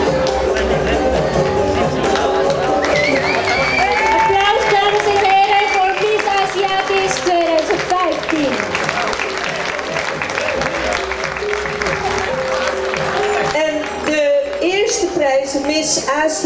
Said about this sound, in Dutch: Applaus, dames en heren, voor Miss